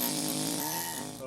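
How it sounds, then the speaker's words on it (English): A tooth chisel cuts mortar-holding grooves into limestone during a repair, a brief loud buzzing burst up close that fades at the end. "this tooth chisel is going to give us grooves that are going to hold that mortar in place"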